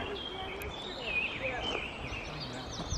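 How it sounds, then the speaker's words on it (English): Faint bird chirps and calls scattered over a steady hiss of forest ambience in Ireland, distant and soft throughout. "Hear the birds. I hope you can."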